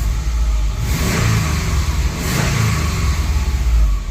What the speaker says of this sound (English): Not gonna bounce it off the rev limiter just yet